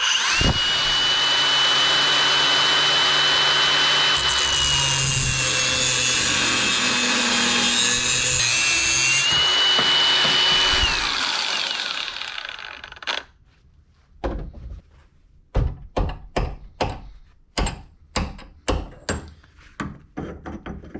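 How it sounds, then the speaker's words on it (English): Bauer 20-volt cordless angle grinder fitted with a cutting disc slices through metal on a log splitter, a loud continuous whine for about twelve seconds, then a quieter stretch broken by a series of short sharp bursts. "Got my other grinder, my 20-volt Bauer grinder with the cutting disc on it."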